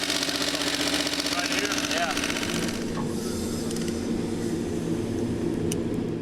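Rebuilt junkyard Mopar 360 V8 running on a stand with one valve out of adjustment: a steady, close idle with a fast, even ticking rhythm throughout, and a faint voice underneath.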